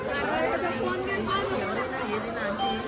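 A thick hum of crowd chatter at Tirupati Balaji temple, many voices blending into a continuous, fairly close babble at steady loudness, with no single talker standing clear.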